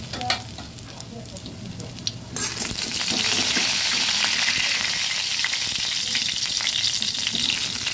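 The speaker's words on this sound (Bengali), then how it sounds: "এভাবেই আমি সবগুলো পকোড়া ভেজে নিচ্ছি" Pumpkin pakoras fry in hot oil, hissing quietly at first and then breaking into a loud, steady, crackling sizzle as more batter goes into the pan, continuing close up with no talk.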